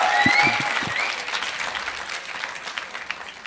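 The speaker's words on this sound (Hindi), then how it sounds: "मैं तो देख रही थी कि तालियां रुकेंगी" A studio audience breaks into sustained applause at a televised debate show, thick continuous clapping with a whoop early on, tapering slightly but still going as the clip ends.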